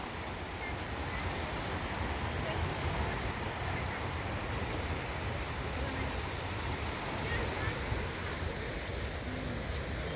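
Surf at Ha Pak Nai Beach rolls in a continuous, broadband wash of waves with wind buffeting the microphone, steady and fairly loud throughout, with a faint voice now and then underneath.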